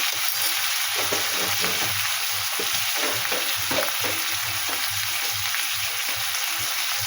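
Cauliflower and egg curry frying in a pan with steady, dense sizzling and occasional stirring scrapes, close and continuous throughout with no talking.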